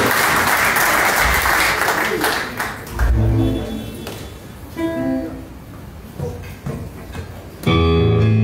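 Applause from a tango milonga audience at El Beso, thinning and fading in waves, with bursts of clapping, talk and a brief musical tone near the end breaking through.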